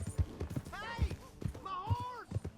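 Horse hooves clip-clopping in Red Dead Redemption 2, an even rhythmic plod of soft thuds heard close, under someone talking over them.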